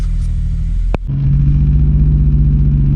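A Toyota Supra engine warms up, a loud, close, steady idle hum that briefly dips with a sharp click, then settles into a firmer, slightly higher, even drone.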